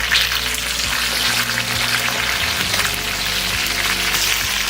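Fish fillets coated in besan batter fry in hot oil over a high flame, giving a loud, steady, dense sizzle with crackling bursts throughout and no voices.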